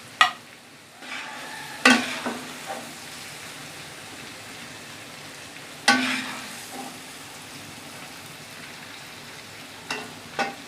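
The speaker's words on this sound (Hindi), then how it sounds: "अब इसको हमने इतना भूनना है कि ये ब्राउन हो जाए।" Chicken fries in a pan until browned, a soft continuous sizzle broken by occasional sharp scrapes and clatters as it is stirred.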